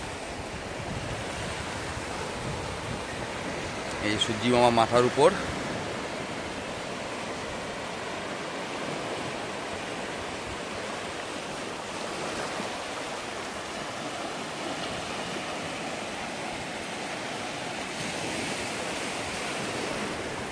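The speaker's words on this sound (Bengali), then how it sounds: "সেই ঢেউগুলো এসে পাড়ের মধ্যে আছে পড়ছে।" Sea waves breaking on the shore of Bakkhali beach at Frazerganj, a continuous broad roar with wind buffeting the microphone, with a short spoken remark near the start.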